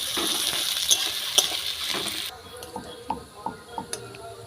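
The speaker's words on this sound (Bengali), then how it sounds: "লাল করে বেরেস্তাটা ভেজে তুলে নেব" Onions for biryani beresta frying red in oil, a dense sizzle that drops suddenly to quieter crackling, with intermittent stirring clinks from a utensil against the pan.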